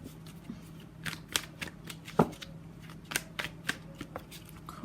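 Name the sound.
tarot cards being shuffled and pulled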